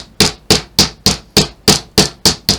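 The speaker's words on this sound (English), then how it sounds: "we use a little hammer and give it a tap down" Small hammer tapping down metal prongs on a 6x10 Chloe clutch, nine sharp, evenly spaced close strikes about every quarter second, each a bright metallic knock with a short ring; no talking.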